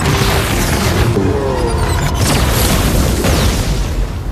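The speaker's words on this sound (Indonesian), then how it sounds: "Kekuatan senjata itu membuat seisi bangunan meledak" A building blown apart by a super weapon in a Sonic the Hedgehog movie scene: a loud, sustained, roaring blast with dense rumble and debris noise filling the whole stretch.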